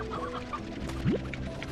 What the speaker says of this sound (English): Oh, here, chickens. Chickens!